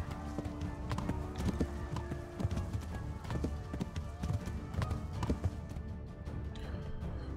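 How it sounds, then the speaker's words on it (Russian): Horse hooves clip-clop in a quick, uneven run in the video game Kingdom Come: Deliverance, dense thumps layered over a busy game soundscape. "Вон еще одна лошадь."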